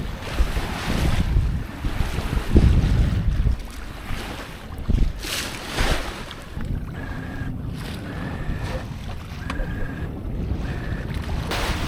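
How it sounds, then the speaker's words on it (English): A Cape Dory 28 sailboat under sail on a starboard tack near Annapolis, with constant wind buffeting the microphone, water rushing and splashing against the hull, and faint intermittent tones in the background. "now we are on a nice starboard tack"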